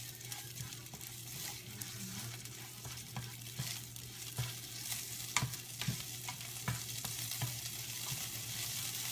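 Thai curry paste stir-frying in a pan, a steady soft sizzle with repeated spatula scrapes and taps at an irregular rhythm, close and fairly quiet, with no talking.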